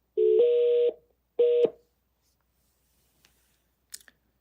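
A mobile phone plays two short electronic two-tone call signals as it rings out, loud and close, each a clear rising tone, followed by silence and a few faint clicks.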